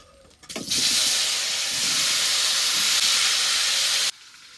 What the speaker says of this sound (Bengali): মাছ ভাজা তেলের মধ্যে সেদ্ধ করে রাখা ওল আর আলুগুলো দিয়ে দেবো